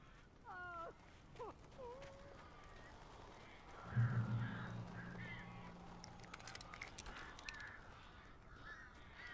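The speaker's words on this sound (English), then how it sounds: "These birds are weird." Crow-like birds caw a few times early on in the Alan Wake Remastered horror game, with harsh bent calls over a low ambient hum before a louder rumbling stretch and scattered clicks.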